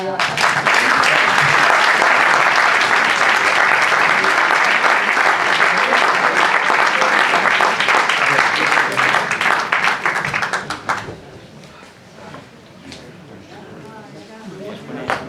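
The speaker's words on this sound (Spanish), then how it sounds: "Un aplauso, ¿no?" Loud, sustained applause from a large crowd fills the air for about ten seconds, then fades quickly into quieter room noise.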